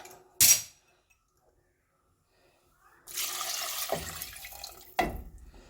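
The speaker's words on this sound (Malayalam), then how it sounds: "നമുക്കിതിലേക്ക് വെള്ളം ഒഴിച്ചു കൊടുക്കാം" Water poured into chicken soup made with country chicken in a pressure cooker, heard as a short splash followed by a longer, rushing pour and a final splash, close and fairly quiet.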